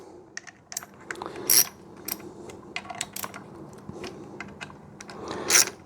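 Engine cover bolts on a Briggs V-twin engine are tightened evenly with a ratchet, giving rapid, uneven clicking and ratcheting in short bursts with a few louder snaps. The work is close by and no one talks over it.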